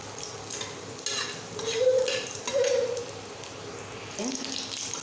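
Chopped garlic added to a pan after cumin sizzles and fries quietly, with stirring scrapes and some clatter, at close range.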